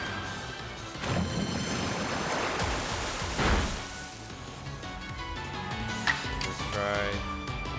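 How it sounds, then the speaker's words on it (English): Pokemon Legends Arceus agile style Water Pulse attack: a loud watery whoosh and splashing crash surging up, then fading into softer game effects and chimes, with a voice speaking over parts of it. "Agile style water pulse."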